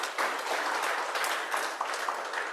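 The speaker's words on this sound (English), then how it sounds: "another round of applause for all of our 4 speakers" Audience applause for four speakers at a panel on plant and reptile trafficking in Southern Africa: steady, full clapping from a room of people across the whole few seconds, fairly loud and continuous.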